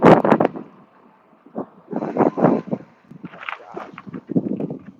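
Gusty wind buffets the microphone in loud, irregular bursts separated by short quieter gaps, rough and close-up.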